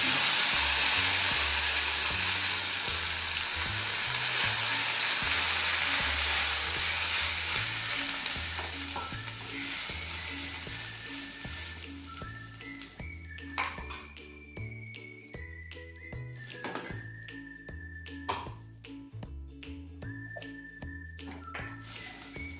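Sweet corn masala paste frying in a pan, a dense hiss that grows quieter over time, broken by repeated metallic clinks and scrapes of stirring.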